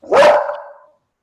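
A single loud dog bark, close by, rings out and tails off over about a second, alone with no talk.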